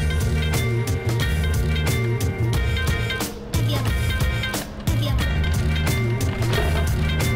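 A GoTrax GXL V2 electric scooter is ridden along a road, with a continuous rolling hum and a motor drone that stays steady and close, broken by a brief dip midway and a few bumps.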